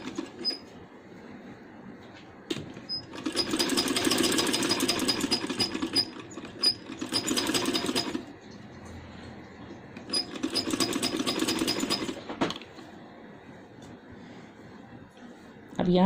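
Sewing machine stitching the front neckline of a handmade baby boy's dress, running in several short bursts with quieter gaps between them.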